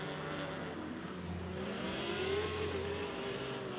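A line of mixed drift and grip race cars runs past on a track, engines droning and revving in a continuous, moderately distant roar, with one car's pitch rising and falling as it goes by.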